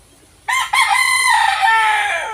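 A young wild junglefowl rooster (labuyo) crows loudly and close, a single cock-a-doodle-doo that starts abruptly, rises, and trails off with a slightly thin, immature voice.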